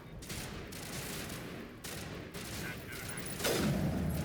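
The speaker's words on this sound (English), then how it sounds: "This is the base level sniper rifle." A base-level sniper rifle in Mass Effect fires on veteran difficulty amid rapid, dense gunfire, a steady crackling barrage at moderate level with a sharper burst near the end.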